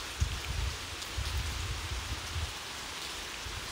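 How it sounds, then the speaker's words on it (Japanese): Heavy rain pours steadily outside a tunnel in Kanagawa, Japan, a soft continuous hiss with low rumbling patter and no voices. "雨がすごい、洪水です。"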